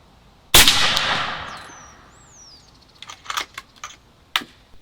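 A single sharp blast from a Bintac MCAR 7000 PSI air rifle, loud and close with a long hissing decay, followed by scattered light clicks and rattles of handling.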